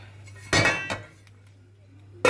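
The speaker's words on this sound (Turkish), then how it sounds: "Şimdi kapağını kapatıyoruz." A lid goes onto a cooking pot of olive-oil green beans, two sharp metallic clanks close together, a softer tap, then another clank near the end, with no talking.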